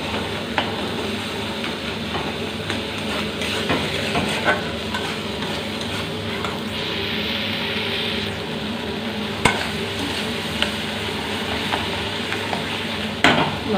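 Masala with mustard paste and tomato fries in a pan for a Sambalpuri small-fish curry, giving a steady close sizzle broken by scraping spoon strokes and a few sharp clinks, with no voices.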